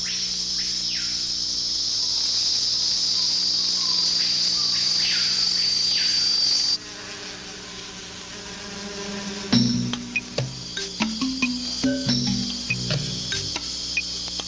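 Insects high in a forest canopy keep up a loud, continuous shrill trill for several seconds, then it cuts to a quieter woodland ambience dotted with a rapid series of short chirps.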